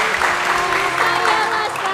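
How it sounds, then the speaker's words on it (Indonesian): Audience applause at a church Easter family gathering, a loud, close, even patter of many hands that fills the short moment without pause. "Tepuk tangan untuk kalian satu sama lain."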